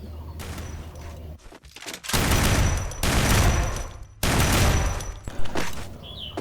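A gun fires in the video game Free Fire, several loud bursts of rapid shots broken by short gaps and reload clicks.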